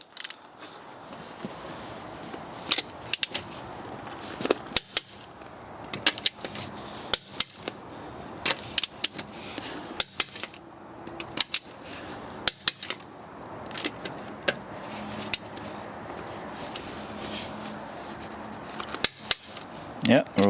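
Wheel bolts on a BMW 7 Series are checked during a full service, giving repeated sharp metallic clicks and ratchet snaps at irregular intervals over a low workshop background.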